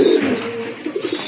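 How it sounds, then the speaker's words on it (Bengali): A pair of red checker pigeons coos up close, the soft throaty calls repeating in short rolling pulses with no voices over them. "দেখেন কালারফুল এক জোড়া রেড চেকার কবুতর"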